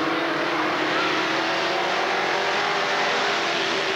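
Street stock race cars roar down the back straightaway at Redwood Acres Raceway in a 1988 trophy dash, running door to door, with a loud, sustained engine drone that stays steady and near throughout.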